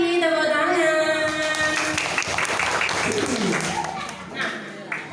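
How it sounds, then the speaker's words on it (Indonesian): An audience at a children's event claps together, a loud, dense burst of applause that starts over music and a voice, then fades away in the last second. "Tepuk tangan."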